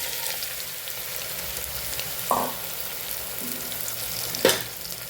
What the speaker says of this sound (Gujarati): એટલા જ આપણે આખા ધાણા છે એ ઉમેરી દઈશું, હિંગ ઉમેરી દઈશું અને આપણે શાકનો વઘાર કરી દઈશું